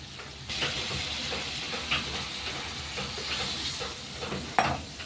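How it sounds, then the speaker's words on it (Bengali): Pre-fried green banana dropped into a pan of Bata fish curry, a continuous loud sizzle and hiss with a few scraping stirs and a sharp clatter near the end. "এবারে কাঁচকলাটাকে দিয়ে দিলাম"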